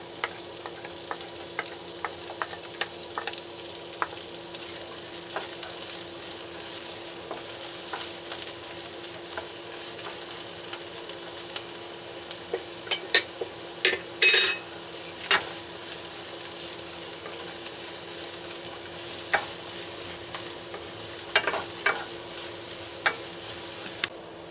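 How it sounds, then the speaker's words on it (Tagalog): Chopped onions fry with garlic in a pan, a steady close sizzle punctuated by frequent sharp scrapes and taps of a spatula being stirred, with no talking. "Ito, sibuyas naman ang ating isusunod sa ating bawang."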